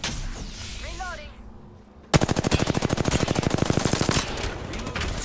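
Video game machine gun fire, a sudden loud burst of rapid, evenly spaced shots lasting about two seconds after a quieter stretch of game sounds and voices.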